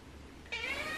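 A small kitten gives a single short meow, close and clear, which breaks in halfway through after a quiet stretch of low room hum.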